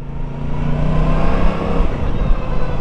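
An Aprilia RS 660 sport motorcycle engine revs loud and close, a rough, rising and falling tone that drops off near the end, with no talking.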